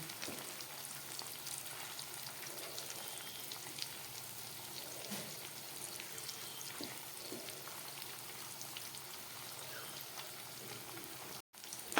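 Chicken pakoras fry slowly in oil on low heat, a faint, even bubbling sizzle with light crackles throughout and a brief cutout near the end.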